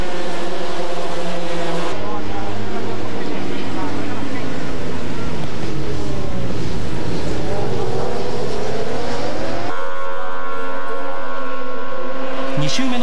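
Factory superbikes in a 1996 All-Japan Superbike race roar past one after another, loud engine notes rising and shifting, with a sharp change as a new machine dominates near the end, under commentary.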